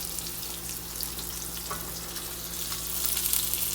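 Salmon frying in a pan gives off a steady, fairly quiet sizzle with a low hum beneath it, growing slightly louder and crackling toward the end, with no voices.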